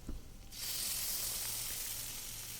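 Shallots and garlic hit a hot pan for sautéing, a brief clatter, then a loud, steady sizzle that holds on without talk.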